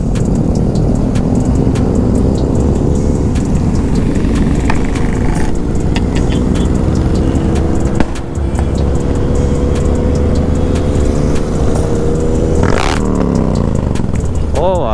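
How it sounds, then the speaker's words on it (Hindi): A loud BMW 1200 motorcycle engine revs and rumbles close by during a large bike rally with over a thousand riders, with rising and falling engine tones and someone talking over it. "तो दोस्तों इतनी लाउड बाइक है यार"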